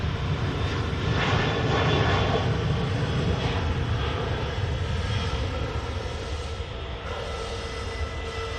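Ryanair jet airliner rolling out at Manchester Airport for departure to Brussels Charleroi, a broad, steady engine roar heard from a distance that holds level and eases off slightly toward the end.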